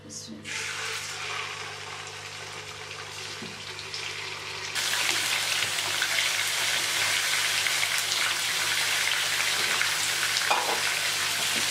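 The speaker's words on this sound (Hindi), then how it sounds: "ऑयल हमारा गर्म हो गया है, अब हम इसमें चिकन डालेंगे।" Chicken pieces for Afghani karahi dropped into a pot of hot oil, a loud, dense, continuous sizzle that jumps sharply louder midway as the meat goes in and then holds a steady roaring crackle.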